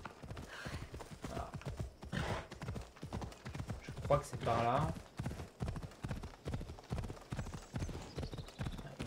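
A horse gallops in Assassin's Creed with a rapid, steady clip-clop of hooves throughout, a brief whinny midway, and someone speaking French over the hoofbeats.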